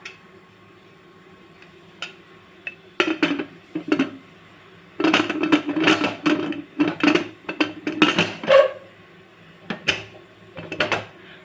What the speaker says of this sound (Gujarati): હવે આપણે કુકરનું ઢાંકણું બંધ કરી નાખશું